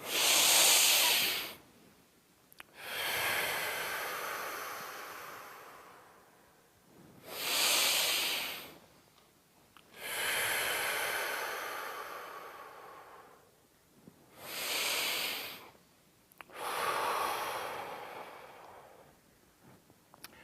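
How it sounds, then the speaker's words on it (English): Three cycles of slow, deep breathing, each a long hissing inhale followed by a longer airy exhale, close and fairly loud, with brief silent pauses between breaths and no talking. "And we're going to take 3 deep breaths."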